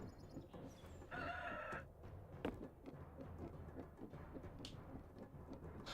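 A rooster crows in a video game during a rooster stomp move, one loud strained call rising over busy game sounds and music, with a sharp impact shortly after.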